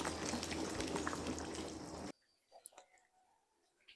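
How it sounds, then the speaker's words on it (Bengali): A pot of rice and beef boiling on the stove, a dense bubbling roar for about two seconds that cuts off abruptly, followed by a few faint drips and soft clinks. "আর এই যে বলক আছে দেখুন"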